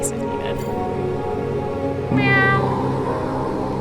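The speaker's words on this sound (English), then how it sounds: "The cat can meow twice if needed." Cat in the video game Centum, a single clear meow rising out of a low background drone partway through and then fading out.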